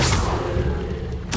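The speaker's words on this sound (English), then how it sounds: "Stupefy." Spell effect from Hogwarts Legacy, a Stupefy cast: a loud low whooshing boom that swells briefly, settles into a rumbling hum, then ends in a sharp bright burst.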